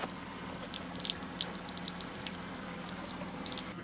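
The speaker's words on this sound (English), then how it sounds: "It has this completely smashed off. And now with it's leaking water" Water leaks and drips from a smashed-off caravan water tank drain tap, a faint steady trickle with many small irregular drips close by.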